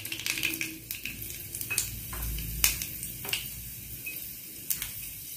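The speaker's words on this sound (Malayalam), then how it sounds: "എണ്ണ ചൂടായിട്ടുണ്ട് നമുക്ക് അതിലേക്ക് കുറച്ച് കടുകും ഉലുവയും ഇട്ട് കൊടുക്കാം" Mustard seeds and fenugreek crackle in hot oil, making a soft steady sizzle broken by sharp pops and clinks close by, with no talking.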